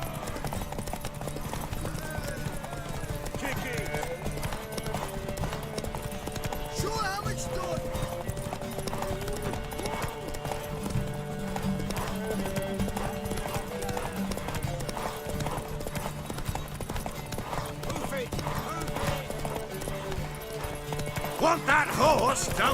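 Horse hooves clip-clop in The Witcher 3, a steady rhythmic trot running the whole time beneath game music and spoken character dialogue, with a brief neigh near the end.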